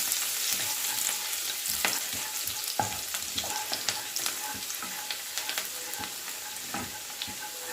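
Finely chopped garlic frying in oil in a pan for egg fried rice, a soft steady sizzle with scattered crackles and occasional scraping stirs, fairly quiet and without talk.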